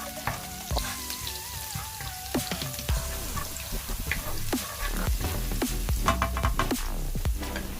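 Garlic sautés in a pan as the base for a homemade sweet and sour sauce, crackling and sizzling steadily with sharp spatula clicks and scrapes scattered across the clip, no voices present.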